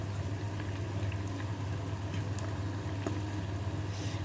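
Croquettes sizzle and bubble in deep oil in a pan, a steady, dense frying hiss that holds at an even level throughout, close and fairly loud, with no voices over it.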